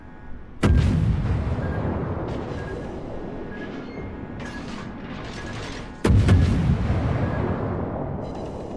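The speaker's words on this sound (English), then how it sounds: "Concentrate fire on the enemy warship." Two heavy naval artillery salvos boom in the World of Warships game, each a sharp loud blast followed by a long rumbling decay, with faint mechanical clanks between them.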